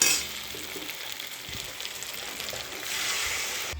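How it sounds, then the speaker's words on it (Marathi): Water poured into sizzling masala frying in oil for a village-style brinjal curry, a steady hiss and crackle that swells louder toward the end, no talking. "आता मसाला याच्यामध्ये आपण पाणी घालून घेऊया"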